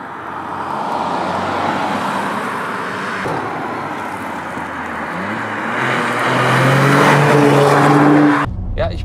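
Modified Toyota GR Yaris engine droning steadily while driving, loud and close, with revs climbing audibly toward the end before cutting off abruptly.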